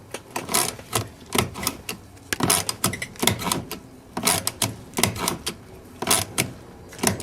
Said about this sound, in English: we now have ratcheting action once more